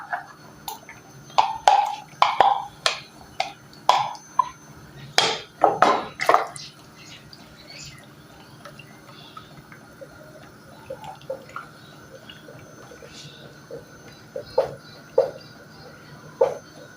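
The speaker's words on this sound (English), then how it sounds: "with our cooking stick, stir it until it is consistent and boiling" Repeated wet knocking and scraping of a cooking stick stirring a thick pot of boiling charcoal-dust and flour mixture, in irregular bursts that fade to softer bubbling and occasional taps.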